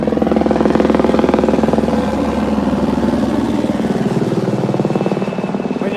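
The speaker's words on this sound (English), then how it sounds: "hopefully you can still hear me as this helicopter goes overhead" A helicopter passes overhead, its steady, rhythmic rotor chop and engine drone filling the air loudly and continuously.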